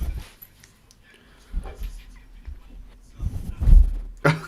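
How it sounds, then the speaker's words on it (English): A dog sniffs and snuffles right against a microphone in short, close, irregular bursts of breathy snorts, with a faint voice talking in between. "if you can just hear a dog sniffing on the mic"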